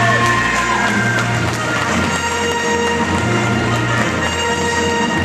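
Audience at the Miss Kramatorsk 2009 beauty pageant cheers and applauds loudly as the vice-miss is announced, a dense steady roar of crowd noise and whoops filling the hall throughout, with no speech over it.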